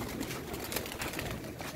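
Pigeons coo amid a dense, noisy outdoor background in the rain, with a steady wash of sound.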